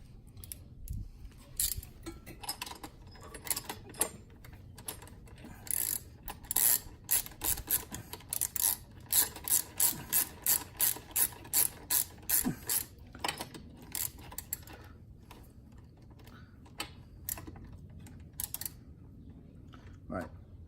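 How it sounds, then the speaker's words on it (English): A ratchet wrench tightening bolts while nerf bars are fitted to a quad: a long run of rapid, regular clicks, close and fairly loud, with scattered quieter handling noises before and after. "use the ratchet."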